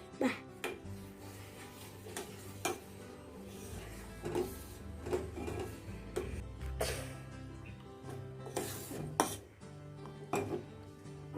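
A spoon stirs turmeric into almond milk in a pot, with quiet scraping and occasional sharp clinks against the metal, faint and irregular.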